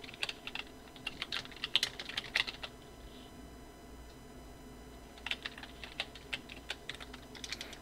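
Fast typing on a computer keyboard while entering text in Photoshop, with crisp clustered key clicks in short bursts separated by pauses, close and fairly quiet with no talking.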